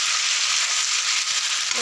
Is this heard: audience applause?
no